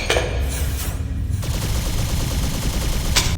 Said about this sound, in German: die schlechten Waffensounds, die darüber hinaus merkwürdige alternative Modi besitzen